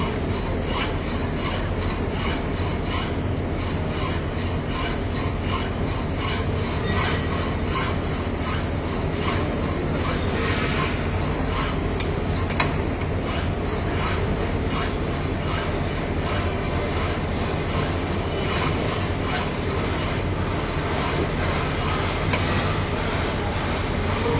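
Hand file cross-filing a metal workpiece at a fitter's bench, steady rasping strokes repeating in a continuous rhythm, close and fairly loud, with no voices.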